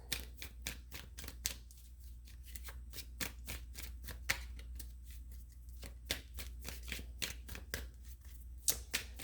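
Tarot cards being shuffled in quick, crisp riffling bursts, a dense run of sharp card slaps with a few brief pauses, close and clear with no talking.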